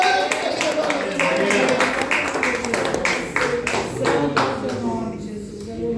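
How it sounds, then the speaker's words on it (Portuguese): A church congregation claps for the Lord in a run of rhythmic, fairly close claps that fade near the end, with voices and music mixed underneath. "Dê um aplauso para o Senhor"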